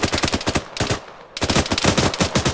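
Rapid automatic gunfire from a firefight in the military video game Arma III, loud, close bursts of fast repeated shots with a brief pause midway before the firing resumes just as heavily.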